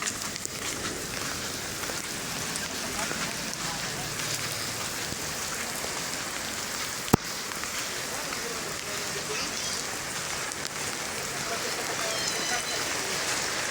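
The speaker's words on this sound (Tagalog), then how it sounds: "It's raining today." Steady rain falls on an outdoor waterfront by Manila Bay, a dense continuous patter with one sharp click midway, while people talk faintly in the background.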